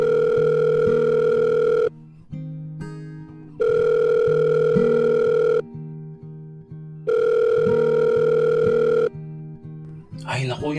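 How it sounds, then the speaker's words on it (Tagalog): A cellphone rings in repeated long electronic tone bursts separated by short gaps, loud and close, with a lower melodic tone pattern running underneath. "narinig ko na nag-ring ang aking cellphone"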